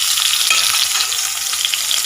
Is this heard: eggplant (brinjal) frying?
yes